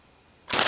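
A Russian nail gun chambered for .410 fires at a log: near-silence, then a sudden loud, sharp blast whose harsh roar carries on to the end.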